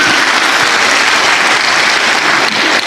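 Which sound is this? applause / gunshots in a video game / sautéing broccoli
applause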